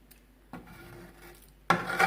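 A ripe jackfruit and jaggery mixture for sweet balls is stirred in a pan, with two brief, close scraping rubs separated by a quiet pause.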